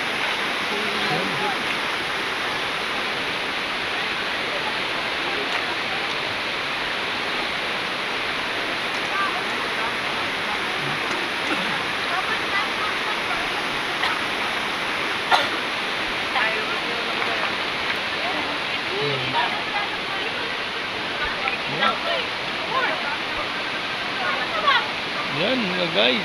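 A river in Masinloc, Zambales rushes and splashes steadily and close by. The even wash of water holds throughout, with a few faint voices and small knocks now and then.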